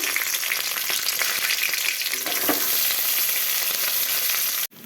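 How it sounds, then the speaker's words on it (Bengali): Chopped onion frying in a pan with oil and spices, a loud, steady close sizzle with faint stirring scrapes, cut off abruptly at the end. "এখন এর মধ্যে দিয়ে দিব পেঁয়াজ কুচি"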